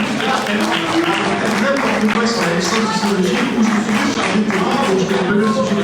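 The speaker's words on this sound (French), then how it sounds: "on les applaudit tous très fort" Sustained audience applause for young political party representatives after a debate at a university in Nîmes, dense steady clapping that fills the room throughout, with some voices mixed in.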